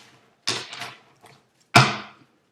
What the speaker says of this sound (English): Give it some good shuffles